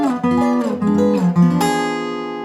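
Guitar strums a diminished seventh chord shape moving down the neck, several short strummed chords in succession ending on one that rings out, close and clear without any talking.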